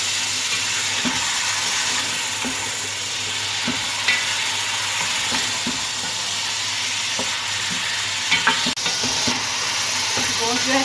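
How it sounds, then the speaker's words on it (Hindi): Mutton pieces frying in a pan for Hyderabadi biryani, a steady close sizzle and hiss with intermittent scraping clicks as the meat is stirred, no voices over it. "गोश्त को अच्छी तरह से भून लेंगे हम।"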